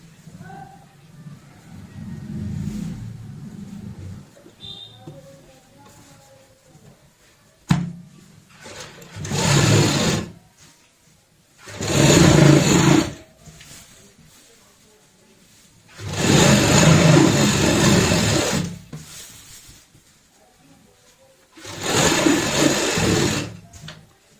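A sewing machine stitches bed sheet fabric in four loud, steady motor bursts of a few seconds each, separated by pauses, after a quieter opening with low voice and handling noise.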